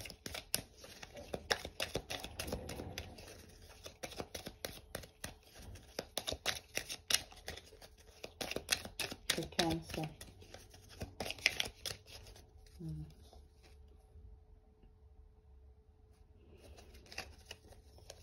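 Rapid crisp riffling of tarot cards being shuffled, repeated in bursts, with quiet gaps between rounds.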